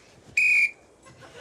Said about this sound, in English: Do you want to blow your whistle?